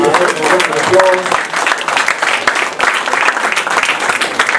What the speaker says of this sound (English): Let's give now ancestor Aretha Franklin a round of applause.